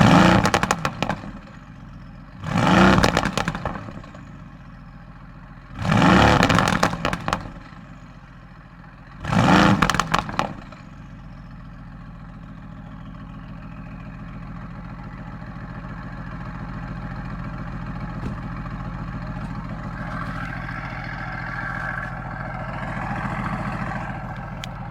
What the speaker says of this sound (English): let's get some revs on the AMG GTS